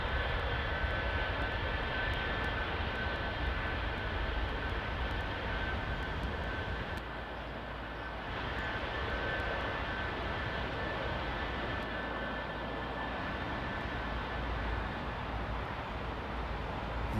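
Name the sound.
aircraft landing close-up at Heathrow runway 09R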